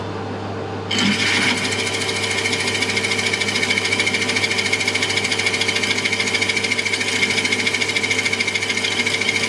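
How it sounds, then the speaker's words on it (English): A lathe with a boring bar cuts an aluminium MGB manifold held in a 4-jaw chuck: the machine starts with a thump, then a loud, steady whine and rattling cutting chatter continues without pause. "I've changed the boring bar for a one that seems to cut aluminium a lot better."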